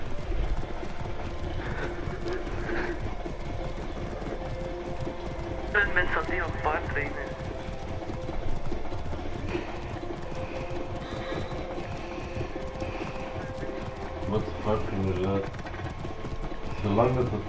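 Horse hooves clatter steadily in Assassin's Creed Origins while a character rides. The rhythmic clip-clop runs through the whole stretch, with faint game ambience and occasional louder bursts.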